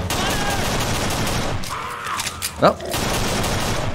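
Dense, rapid gunfire rattles in a zombie shooter set in a prison yard, loud and continuous with a short lull broken by a sharp shot, while a voice speaks briefly.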